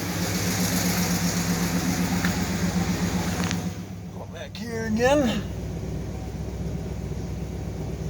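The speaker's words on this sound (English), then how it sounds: "and now we're like idling super high" A Dodge 5.7 Hemi engine idles high with a steady, moderately loud mechanical hum, and a voice speaks briefly over it midway.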